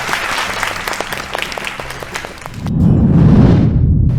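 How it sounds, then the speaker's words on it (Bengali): Studio audience at a televised Bengali family game show breaks into loud, dense applause that swells near the end, with music or voices underneath at first. "হাততালি জোর"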